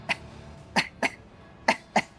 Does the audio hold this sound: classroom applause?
no